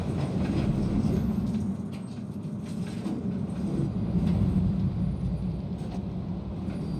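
A roller coaster train from the Planet Coaster video game runs along its track in a continuous low rumble with faint rattling clatter, steady and fairly loud throughout with no talking.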